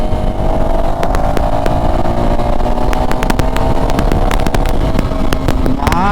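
A 2024 KTM Duke 390 motorcycle engine revs loudly and continuously while the bike is ridden, its pitch climbing steadily as it accelerates.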